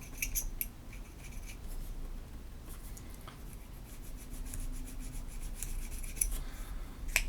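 Bassoon reed cane is smoothed back and forth along its edges, making soft, close rasping and scraping strokes in an uneven rhythm with a few sharper scratchy ticks, faint and without speech.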